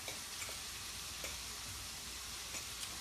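Garlic and chipotle powder are stirred into a spicy turkey slider mix, making a steady, close sizzling-like scrape with a few soft clicks of the spoon, and no voices.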